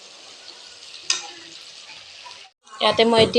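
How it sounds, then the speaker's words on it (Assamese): Fried eggs stirred through a pan for a home-style Bengali egg dish give a soft, steady sizzle and scraping that stops for a moment, then a person speaks over the cooking. "ভাজি থোৱা কণীকেইটা দি এনেকৈ লৰাই দিছোঁ"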